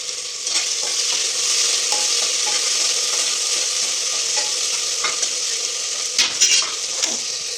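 Onions roasting in hot oil for egg biryani, a steady loud sizzle with occasional stirring scrapes and clinks of a utensil against the pan, close up and alone without talk.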